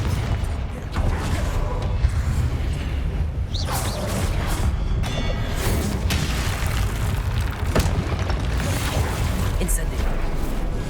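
Confringo fire-blast spell bursting in Hogwarts Legacy, repeated booming blasts and crackling impacts over a dense, constant bed of game combat noise and creaking mechanisms, loud and close throughout.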